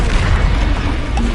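Bombarda explosion spell going off in Hogwarts Legacy, a loud, dense, rumbling boom with a broad roar sustained across the moment, no voices.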